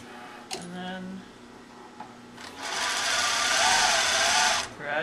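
A Singer 20U industrial sewing machine sews slowly, first with a few separate clicks and a short run, then a steady louder mechanical whir of about two seconds, with brief speech at the start.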